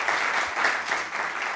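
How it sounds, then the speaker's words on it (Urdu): Audience applause at a literary and cultural panel discussion, a steady wash of clapping from a seated crowd that fills the whole short stretch at even strength with no voices over it. "میں کہوں گا ان کے لیے تالی بجائی جائے"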